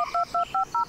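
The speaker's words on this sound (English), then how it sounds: "My phone did go off, right?" A phone in the Blair Witch video game gives four short, evenly spaced two-tone beeps, loud and clean in a quick steady rhythm.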